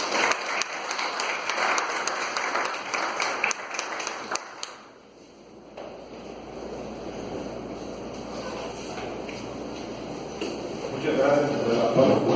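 An audience claps warmly in a church to welcome a guest speaker, a dense, steady round of applause that fades after about five seconds, leaving a quieter room with murmuring voices before the clapping briefly swells again at the end.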